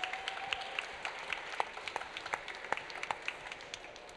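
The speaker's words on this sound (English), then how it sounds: "Round of applause for them." Audience at a business school startup demo day claps for a pitching team. The applause is moderately distant and patchy, with individual claps popping out over a soft crowd wash for several seconds.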